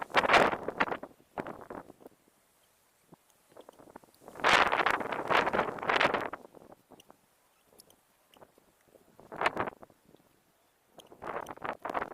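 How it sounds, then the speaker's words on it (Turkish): Wind gusts buffet the microphone in several loud bursts separated by near-silent pauses. "Şu anda yine rüzgarlı."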